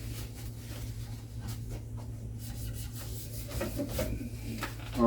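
A cloth wipes loosened paint off the wooden leg of an end table in repeated close rubbing strokes over a low, steady hum, with no talking.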